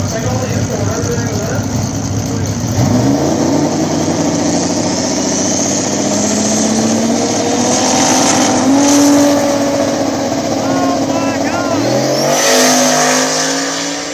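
Drag race at Mooresville between a small-tire outlaw car and a Toyota Soarer (Lexus SC), with loud engines revving and accelerating hard down the strip, tires squealing, and a commentator talking over the roar.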